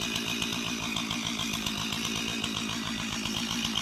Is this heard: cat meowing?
no